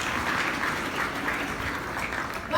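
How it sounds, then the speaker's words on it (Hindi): A school audience at a traffic-awareness event claps in a dense, steady burst of applause that fills the whole stretch without speech. "तो जोरदार ताली बजाओ बढ़िया बात के लिए।"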